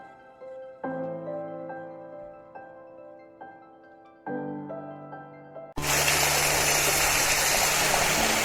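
A big waterfall on a Northumberland walk from Rochester to Chew Green roars as a loud, steady broadband rush that cuts in suddenly partway through, after a quieter stretch of tonal sound.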